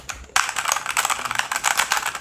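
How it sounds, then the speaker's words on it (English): Mechanical keyboard keys clatter in rapid, continuous typing bursts, close and crisp, with no voices. "let me show you the sound of the mechanical keyboard"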